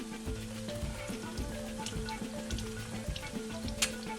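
Meat sizzles and browns in a slow cooker pan, giving a steady, fairly quiet crackling hiss with scattered small pops and a low background hum, with no voices.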